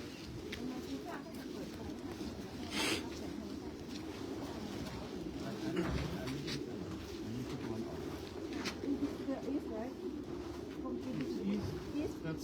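Pigeons coo softly and continuously in a pigeon loft at a breeding center, a low steady murmur of many birds with occasional flutters, faint and close.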